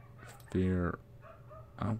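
A dog barks outside, giving a couple of short, harmonic barks with a gap between them, moderately near. A low background hum runs underneath.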